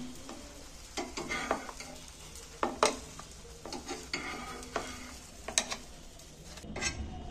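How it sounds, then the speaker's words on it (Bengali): Potato pieces for aloo dum fry in a little oil in a pan, giving a steady close sizzle broken by repeated scraping stirs and a few sharper clinks of the spoon against the pan. "এবার বাকিগুলো আর একবার আমি ভেজে নিচ্ছি।"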